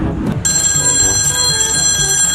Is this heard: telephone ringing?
yes